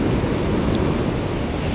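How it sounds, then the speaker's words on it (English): Ocean surf washing onto a beach where people fish for surf perch, a steady broadband roar with wind buffeting the microphone, continuous and fairly loud throughout with no voices. "Those waves are really tricky."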